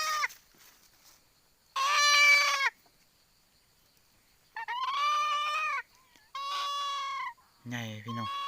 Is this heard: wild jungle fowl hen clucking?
yes